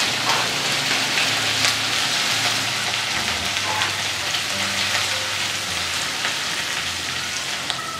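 Mustard seeds and garlic paste sizzling steadily in hot oil for a Kathiawadi-style baingan bharta, a continuous loud crackling fry with no pauses and no voices.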